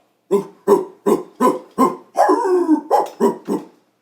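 A person imitates a dog barking for a storytime group: about ten short, sharp, voiced yaps in a quick, steady run, one drawn out into a longer howling bark midway, loud and close with no talk over it.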